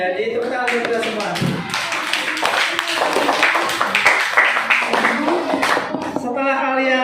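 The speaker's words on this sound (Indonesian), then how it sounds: "Jadi tepuk tangan untuk kita semua." A classroom group claps together in a quick, ragged round of sharp hand claps, with voices talking just before and after.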